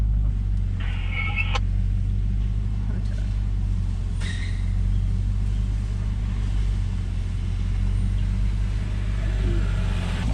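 A Nissan Y62 in low range with diff lock towing a caravan up a steep gravel hill, a steady low engine drone and rumble throughout, with brief clatters and scrapes from gravel or the rig.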